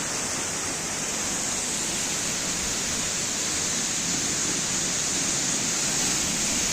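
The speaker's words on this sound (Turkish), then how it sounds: "Görüyorsunuz Karadeniz'in muhteşem bir şelalesi." A Black Sea region waterfall roars in a steady, dense rush of water, loud and continuous throughout with no voices over it.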